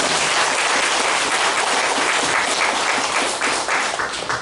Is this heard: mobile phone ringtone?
no